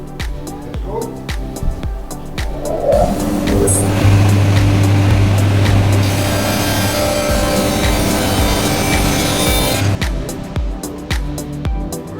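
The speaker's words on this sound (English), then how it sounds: "We've got the table saw set up with the dado stack ready to go" A table saw fitted with a dado stack runs through wood in a workshop, a loud steady roar of blade cutting that holds for several seconds and then cuts off, with workshop knocks and clatter around it.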